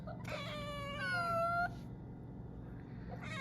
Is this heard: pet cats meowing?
yes